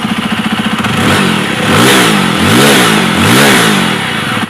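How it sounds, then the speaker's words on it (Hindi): A Jawa 42 motorcycle engine idles with a steady throb, then revs up and down in several rising and falling surges, loud and close. "अब इसको रैव करते हैं।"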